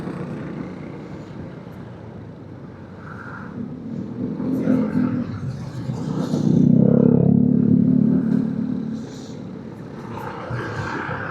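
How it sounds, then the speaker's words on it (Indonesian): Cars and engines pass steadily in heavy traffic on a busy road leading into the city. A drone swells to a loud peak midway and then eases off, with faint voices in the background. "mobil-mobil lewat sini semua. Akhirnya numpuk."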